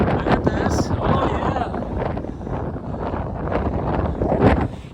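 Strong gusts at a yacht harbour buffet the microphone in a continuous roaring rumble that swells and dips, close and loud, while someone talks over it.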